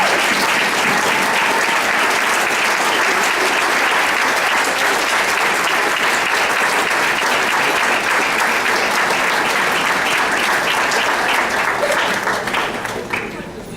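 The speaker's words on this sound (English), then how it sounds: "So please give me a round of applause for Ms. Gladys Gonzalez." Sustained audience applause fills a board of education meeting room in Lakewood, New Jersey, loud and dense for about fourteen seconds before beginning to taper off at the end.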